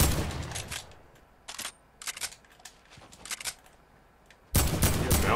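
Gunfire in Fortnite: bursts of close, sharp shots crack in irregular clusters, with a few isolated reports in between, ending in a loud heavy volley.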